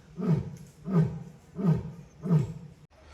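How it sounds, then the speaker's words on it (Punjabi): An Asiatic lion from Gujarat roars four times in a slow, even rhythm. Each roar is loud, deep and close, with short pauses between them. "ਉਹ ਪਰੇ ਸ਼ੇਰ ਆ ਉੱਪਰ ਸ਼ੇਰ ਏਸ਼ੀਆਈ ਸ਼ੇਰ ਹੈਗੇ ਆ ਇਹ ਇਹ ਗੁਜਰਾਤ ਤੋਂ ਲਿਆਂਦੇ ਹੋਏ ਆ"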